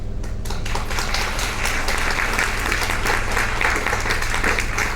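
Audience applause with steady clapping throughout, a dense sustained crowd clapping at fairly loud level with no pauses.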